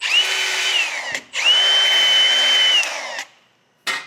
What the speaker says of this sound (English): Wax and a grinding disc.